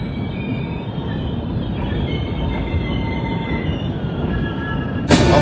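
A train rumbles steadily along the rails with a continuous squeal of wheels, loud and close, ending in a sharp clatter, heard from a Vistadome coach on the Araku to Visakhapatnam line.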